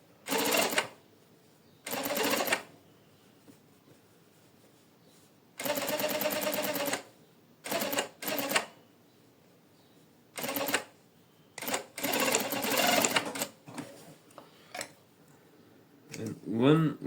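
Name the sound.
sewing machine stitching a double welt pocket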